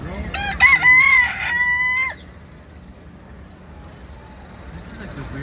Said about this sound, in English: Chickens. They could fly, right?